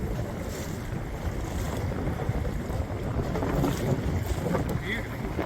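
Steady wind roars across the microphone while sailing off the Turkish coast near Kekova, a continuous dense rush with faint wave wash underneath and no voices.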